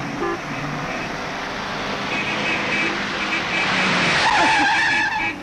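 A car on a street skids with a long tire squeal and sounds its horn at a pedestrian walking on the road, loud and close, the screech rising toward the end.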